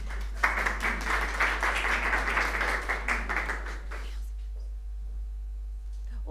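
An audience claps together in a dense burst of applause for about four seconds, then it stops abruptly, leaving near quiet with a low hum.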